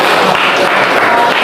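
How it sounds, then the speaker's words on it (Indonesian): A class applauds a student group after their presentation, a short burst of dense clapping from a room of people. "Tepuk tangan untuk kelompok 1."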